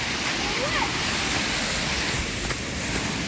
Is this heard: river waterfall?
yes